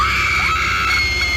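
A woman's scream as a dramatic sound effect in a spoken horror story, one sustained loud shriek with a sliding pitch lasting over a second, heard alone with no talking.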